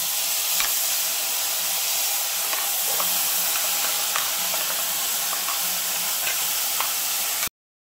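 Ground spice paste for a lentil and poppy-seed dish hitting hot oil already holding dried red chillies and nigella seeds, giving a loud, steady, dense sizzling hiss with faint crackles throughout that stops abruptly near the end, with no talking.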